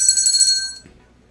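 A single bell strike rings out bright and loud, its high metallic tone decaying over most of a second to near silence.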